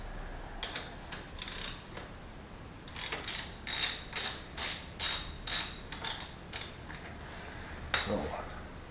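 Ratchet clicking as fasteners are removed from a BMW R nineT motorcycle during a rear seat support delete, bursts of quick metallic ticks in uneven runs with pauses between, fairly close.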